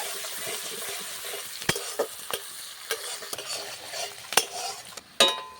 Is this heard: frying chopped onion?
yes